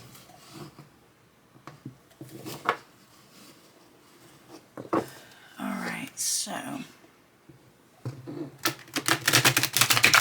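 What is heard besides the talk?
shuffling a tarot card deck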